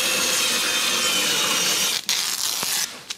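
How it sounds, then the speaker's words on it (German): A table saw rasps steadily through a piece of wood covered with adhesive tape to keep the blade from tearing the edge, loud and continuous before cutting off sharply near the end. "Und die sägen wir uns hier mal ab."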